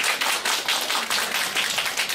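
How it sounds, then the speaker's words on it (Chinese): An audience at a weekend science talk applauds to welcome a teacher. Dense, continuous clapping sounds from many hands nearby, in rhythmic waves of steady loudness. "那以最热烈的掌声，我们来欢迎李正宪老师"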